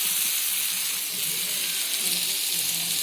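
Shrimp and vegetable stems fry in a pan, giving a continuous soft hiss of sizzling oil that stays even and close throughout, without any clear stirring strokes or talk.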